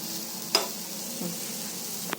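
An egg omelette sizzling in a pan once flipped, a low steady frying hiss with a couple of sharp clicks from the spatula, quiet and close with no voices.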